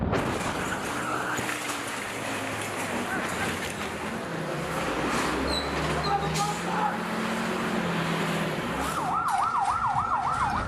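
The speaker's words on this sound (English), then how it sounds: "One of countless ambulance calls overnight in Gaza." An ambulance siren wails at night in Jabalia, Gaza, its rising and falling tone emerging near the end over a dense, noisy street backdrop with voices.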